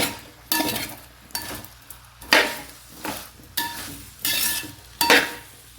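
Pieces of elephant foot yam fry in hot oil, a loud crackling sizzle that swells each time a spoon scrapes and stirs through the pan, in repeated bursts with no talking.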